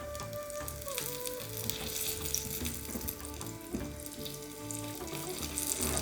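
Half-inch eggplant slices fry on a tawa over medium heat, giving a steady close sizzle that is mixed with tonal background music.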